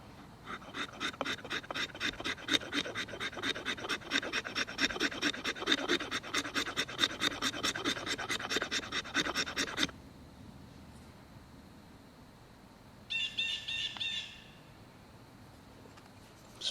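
The spine of a Sospes bushcraft knife scrapes fatwood in rapid, rhythmic rasping strokes for about ten seconds, close and moderately loud, followed by quiet and one short burst of scraping.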